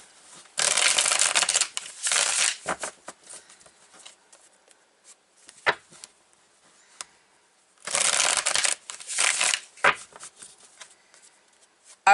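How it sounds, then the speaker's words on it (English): Tarot cards are shuffled in two loud, crisp riffling bursts separated by quiet stretches with a few soft taps of cards being handled and drawn. "I'm going to take some more cards for you"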